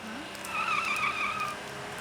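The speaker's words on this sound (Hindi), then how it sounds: "अरे गाड़ी आ रही है।" A car approaches on a road and skids to a stop, tires squealing in a wavering screech that rises and fades over about a second, heard fairly near against steady background noise.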